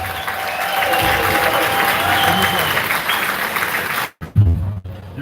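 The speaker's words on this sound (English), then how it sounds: "I want you to please give yourselves an enormous round of applause." Audience at a ride-hailing launch event claps in a sustained burst of applause, a dense crowd roar that cuts off abruptly near the end, followed by a few scattered claps and brief low sounds.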